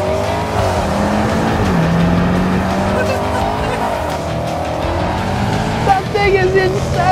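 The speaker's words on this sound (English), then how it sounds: "Look at that Beamer go!" A BMW M8 Competition launches hard in a drag race against a Range Rover Sport SVR, loud engine roar rising through gear changes with a brief tire chirp near the end, voices excited over it.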